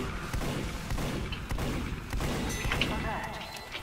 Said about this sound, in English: awesome sentry gun.